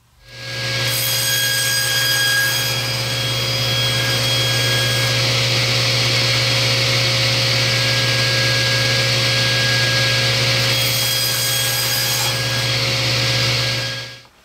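A power saw runs continuously with a steady whine, cutting ABS plastic into strips; pitch brightens at start and near the end, then stops.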